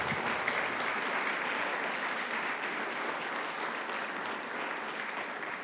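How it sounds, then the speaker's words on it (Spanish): A church congregation applauds in a dense, continuous burst of many hands clapping at an even level throughout, with no speech over it. "Si le dan un aplauso al Señor, déselo bien fuerte"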